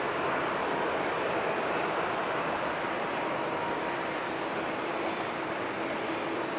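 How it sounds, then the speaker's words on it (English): A Kenya Airways Boeing 787 Dreamliner passing at Amsterdam Schiphol Airport, a steady broad jet roar heard from a distance, even in loudness across the whole stretch with no voices. "going through the screen in 3-4 seconds is the Kenya Dreamliner"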